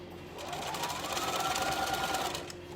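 A sewing machine runs a second row of stitching on a summer skirt with an elasticated waistband, a quiet, steady mechanical whir lasting a couple of seconds.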